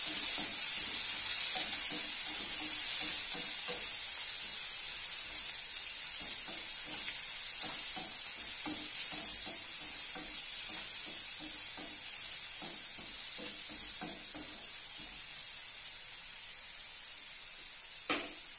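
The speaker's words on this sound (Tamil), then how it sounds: "வெங்காயம் கொஞ்சம் நல்லா வணங்கட்டும்." Sliced onions sizzle steadily in hot oil in a pan for a Tamil-style toor dal kuzhambu, a continuous close hiss with occasional scraping stirs and no talking.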